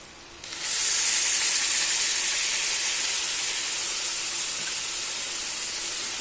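Tomato puree hits hot spiced masala in a pan, setting off a sudden loud hissing sizzle that swells within the first second and then holds steady and close for the rest of the time, with no talk.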